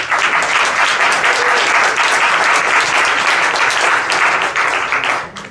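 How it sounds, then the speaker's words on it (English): A dense, sustained round of audience applause in an indoor hall at a talk on faith and politics, loud and continuous for several seconds before tapering off at the end. "And I appreciate the applause,"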